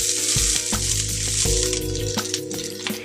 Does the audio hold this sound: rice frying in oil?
yes